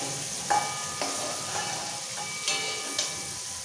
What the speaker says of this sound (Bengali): ফুলকপি খুব সুন্দর করে ভাজা হয়ে গেছে, এরকম ভাজা হয়ে যাবে হালকা লাল করে